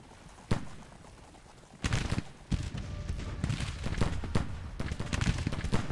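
Artillery battery opening fire in a Union Civil War campaign game, heard as sharp booming reports at scattered intervals over a rumbling battlefield, mostly mid-distance and moderately loud.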